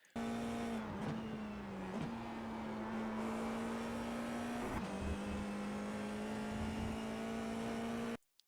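FIA F4 race car at Watkins Glen under throttle, its engine droning loudly and steadily at high revs throughout, with brief dips around upshifts before the tone climbs again.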